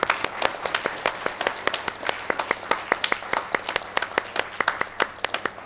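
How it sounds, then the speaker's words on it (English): A panel audience at IIM Bangalore claps for para athlete Malati Holla, a wheelchair shot put and discus champion; steady, fairly sparse hand claps carry on for several seconds at moderate level. "A huge round of applause for Malati Holla."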